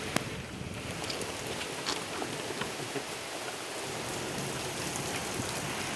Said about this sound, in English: There's the rain we were talking about.